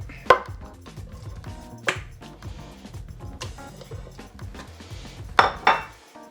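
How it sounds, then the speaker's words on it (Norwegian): A knife chops beef into pieces on a board during preparation of biffsnadder, with sharp, irregular cuts, a few louder knocks and occasional light clinks of utensils, close and clear with no talking. "Da skjærer vi kjøttet, gjør vi da."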